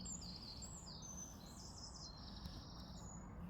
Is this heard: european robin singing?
yes